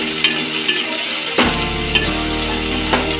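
Tomatoes sizzle loudly in a pan of hot oil as the base for a fish curry, a steady close frying hiss broken by a few scrapes and taps of a stirring spoon, with no voices.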